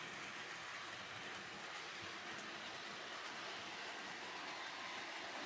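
An Athearn Warbonnet HO scale model train runs in reverse with a steady, continuous rolling rumble and whir that holds an even level throughout, with no pauses and no voices.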